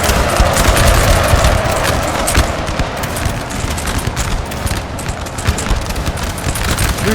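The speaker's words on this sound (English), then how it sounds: "This is firing to the flanks of this cav." Massed musket fire rolls on without a break during a winter battle in Napoleon: Total War multiplayer, a loud, dense crackle of overlapping volleys with distant booms mixed in.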